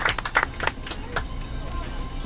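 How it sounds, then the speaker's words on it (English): Small group of tour-bus passengers clapping, a short burst of close, uneven handclaps that trails off within about a second, with voices following. "Give them a round of applause"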